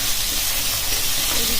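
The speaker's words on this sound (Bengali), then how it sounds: "এইদিকে মাছ ভাজা চাপিয়েছি" Fish frying in hot oil in a home kitchen gives a steady, close sizzle and hiss throughout the brief moment, with no talk.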